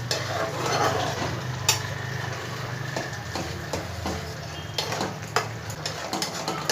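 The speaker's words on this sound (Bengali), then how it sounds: "পনির দিয়ে কিন্তু বেশিক্ষণ আমি ফোটাবো না ভালো করে একটু সবগুলো মিশিয়ে দেবো" Paneer and potato curry is stirred in a pan, a spoon scraping and clacking in scattered short strokes over a soft steady sizzle, close and without talk.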